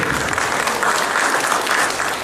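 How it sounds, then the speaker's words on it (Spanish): An audience at a talk on Peruvian occupational health and safety law claps steadily for a couple of seconds, even and moderately loud, with no voice over it. "Por favor, recibámoslo con un fuerte aplauso."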